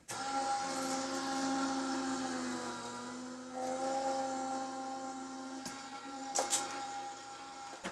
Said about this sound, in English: So then we'll run this with the die cutting machine.